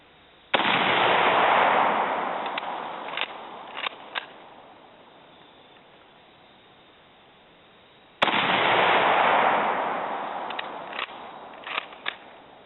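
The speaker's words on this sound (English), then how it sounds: "see if we can get some of that muzzle blast on camera" An M44 Mosin-Nagant carbine rifle fires two loud, sharp shots outdoors about eight seconds apart, each with a heavy muzzle blast whose boom rolls away and echoes over several seconds.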